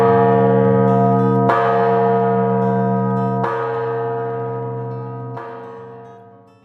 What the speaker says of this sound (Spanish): La campana San José es uno de los tesoros artísticos religiosos que poseemos en nuestro país.